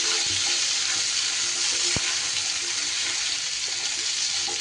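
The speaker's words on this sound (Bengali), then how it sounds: "নুন আর হলুদ দিয়ে আলু আর পটলকে কিন্তু খুব সুন্দর করে ভেজে নিতে হবে।" Potatoes and pointed gourd fry with salt and turmeric in a pan, giving a steady, close hiss of sizzling oil throughout with one brief sharp click partway in.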